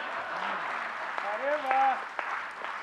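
A Hindi kavi sammelan audience in Ajmer breaks into a steady wash of clapping, sustained for about three seconds, with a voice briefly audible over the applause.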